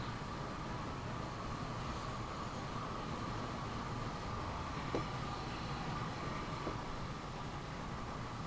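A massive freight train in Transport Fever 2 rolls past with a steady, continuous rumble and faint hum, fairly quiet and unbroken for the whole stretch.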